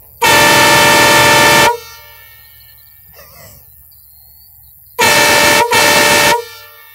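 A half-scale model Nathan P-5A air horn sounds outdoors in loud, sustained chord blasts: one long blast, a quiet pause with a faint rustle, then two more blasts close together, very near and overpowering.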